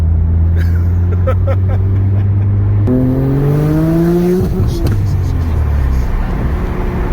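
A Porsche sports car accelerating hard at a Cars and Coffee meet in Borås, the engine note climbing through rising revs with a gear shift, loud and close with steady road and wind noise.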